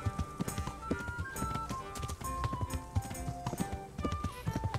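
Horse hooves clip-clop at a steady riding pace in the Kingdom Come Deliverance video game, rhythmic thuds mixed under a busy bed of game music and ambience.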